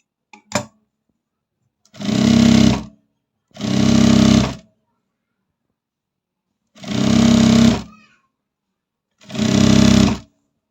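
A sewing machine stitches fabric in four separate loud bursts of whirring, each lasting about a second, with silent pauses between and a brief click at the start.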